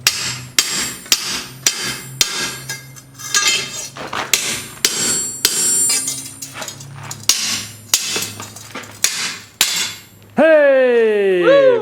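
Hammer blows on a steel chisel cutting hot steel at a blacksmith's anvil, a dozen or so loud ringing metallic strikes at irregular intervals, ending in a sustained ringing tone, with a voice heard faintly between the blows.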